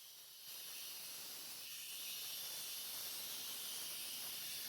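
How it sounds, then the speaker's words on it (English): A copper bead held against a 180-grit diamond disc on a lapidary wheel, giving a steady, even grinding hiss that builds slightly after the start and keeps going without a break. "the best way I found to do this is on a lapidary wheel"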